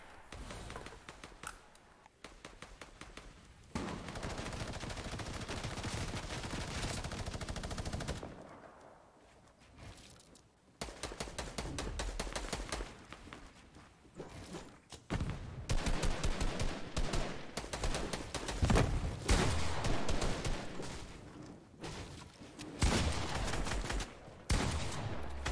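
Fortnite gunfire: dense, rapid bursts of automatic weapon fire crackle almost nonstop, with brief pauses between loud, sustained volleys.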